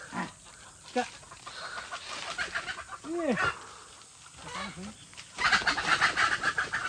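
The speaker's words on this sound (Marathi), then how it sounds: "हे सगळ्या झाडावरती कोंबड्या आहेत" Village chickens perched up in a tree cluck and squawk intermittently, with a few short rising calls, while people talk nearby; a rustling burst of activity comes near the end.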